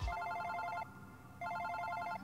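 A telephone rings in the Super Paper Mario video game, two bursts of an electronic trilling bell separated by a brief pause, clear and alone.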